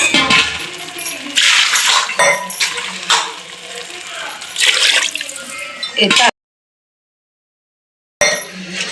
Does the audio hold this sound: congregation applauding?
no